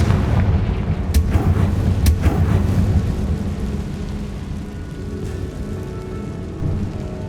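A Confringo spell blast in Hogwarts Legacy booms loudly with a dense rumbling burst at the start, then a long roaring, crackling tail that slowly fades, with no talk over it.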